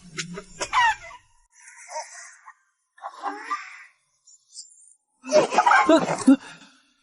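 A rooster clucks in short bursts, then lets out a loud, ragged crow near the end, close by with gaps of silence between calls.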